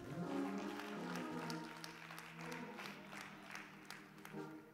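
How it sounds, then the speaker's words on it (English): A church congregation claps its hands in praise during a worship service, with a steady wash of applause from a crowd and sustained organ or keyboard chords underneath, moderately distant and without clear speech. "give God a hand clap of praise"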